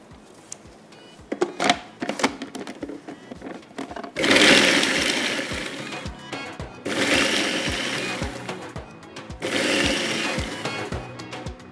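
An electric chopper minces garlic and green chillies in three loud whirring bursts of a couple of seconds each, separated by quieter clicks and handling sounds.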